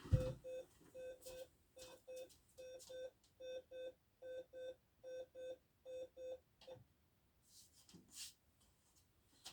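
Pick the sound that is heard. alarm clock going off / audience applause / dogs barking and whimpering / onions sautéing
alarm clock going off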